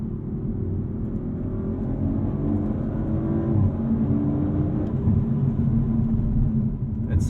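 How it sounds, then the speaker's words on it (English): Audi RS5 Competition twin-turbo V6 with opened exhaust baffles and reduced sound deadening, heard from inside the cabin as a steady, moderately loud engine drone with slowly rising and falling pitch while driving, no talking. "we also hear more from that twin-turbo V6, not only because the baffles and the exhaust have opened up"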